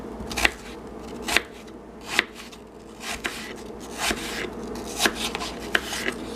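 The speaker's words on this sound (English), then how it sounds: "you can either slice it thinly, very small lengthwise, like so" A knife slices an apple thinly lengthwise for pie filling, giving sharp, close chopping strikes at an uneven pace, roughly eight cuts across the stretch with no talking.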